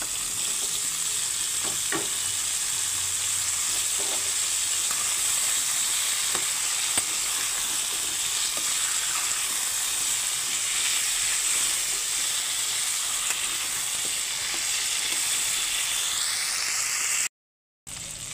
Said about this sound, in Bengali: লবণ দিয়ে আমি এক এক করে সবজিগুলো আগে ভেজে নিচ্ছি